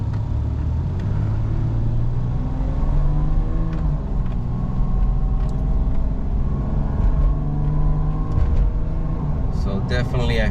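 Toyota Tacoma 3.4L truck accelerating on a road test, engine rumble rising and holding steady under a continuous drone, with a person talking over it.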